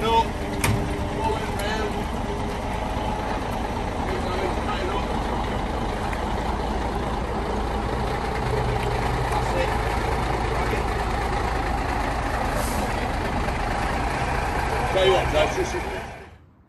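A Leyland Martian tank recovery truck manoeuvres slowly, its heavy diesel engine rumbling steadily and close for the whole stretch, with voices calling out directions over the drone.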